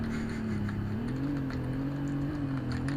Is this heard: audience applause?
no